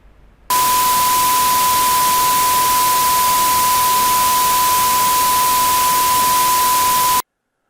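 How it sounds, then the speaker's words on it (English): A 1 kHz test tone sits at the same RMS level as the white noise it is mixed with: a steady pure whine inside a loud, even hiss, starting abruptly after a brief quiet moment and cutting off cleanly near the end. "The next sound you will hear is a 1 kHz tone mixed with the white noise."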